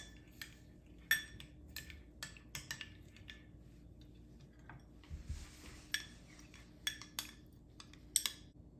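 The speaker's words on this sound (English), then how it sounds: "We are going to mix." Chicken marinade with oil being mixed in a bowl, faint intermittent clinks and taps of a utensil against the bowl over quiet background, no talking.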